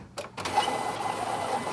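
A printer feeding glossy sticker paper, with a couple of mechanical clunks followed by a steady whirring print run, close and fairly loud.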